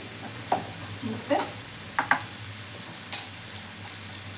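Spices sizzle in hot oil for Kannada-style garlic rice while a spoon stirs and scrapes the pan in a few sharp, close clicks over a soft frying hiss, with a brief spoken word.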